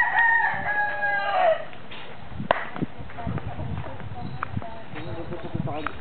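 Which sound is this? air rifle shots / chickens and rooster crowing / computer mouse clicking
chickens and rooster crowing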